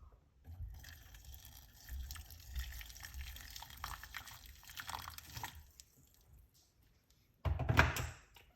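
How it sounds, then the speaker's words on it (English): Hot water is poured into a large cup over whole cloves, a steady liquid pour and trickle lasting several seconds, close and moderately quiet, with a brief louder splash near the end. "I'm just gonna pour some hot water on it."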